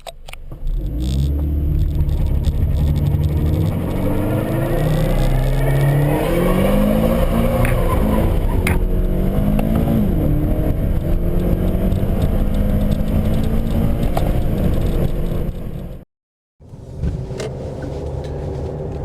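A turbocharged car launches without traction control, its engine roaring loud and sustained with rising revs and rumbling wheel spin throughout, cutting out abruptly near the end before resuming briefly.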